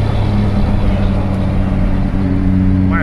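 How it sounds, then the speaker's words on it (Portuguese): Engine noise from a Ford car at a busy toll plaza, heard as a steady, close, low drone with a faint rising note near the end and no talking. "Olha esse carro Ford, velho."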